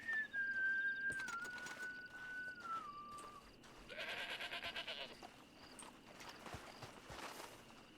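A goat bleats in a Red Dead Redemption 2 roleplay game, a single drawn-out wavering bleat followed by fainter rustling and clatter against quiet outdoor ambience.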